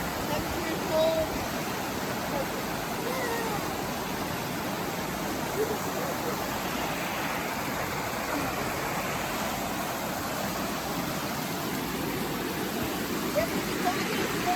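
A hidden waterfall in the mountains gives off a continuous, dense rush of falling water, steady and fairly close, with faint voices now and then.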